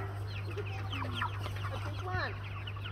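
Chickens clucking and cackling on a farm, several birds calling in short overlapping bursts against a steady low hum, moderately close.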